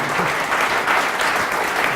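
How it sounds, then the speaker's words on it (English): An audience applauds at the close of a fireside chat event, with dense, steady clapping filling the room evenly throughout, loud and continuous, with no speech over it. "let's give a round of applause to Pete Kazanjy."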